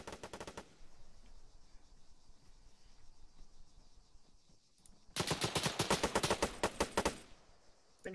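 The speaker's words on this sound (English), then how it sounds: "And they're shooting me through the wall." AI enemies firing through a wall in the Arma video game: a short burst of rapid gunshots at the start, a quieter stretch of low background noise, then a loud sustained automatic volley of sharp, closely spaced shots.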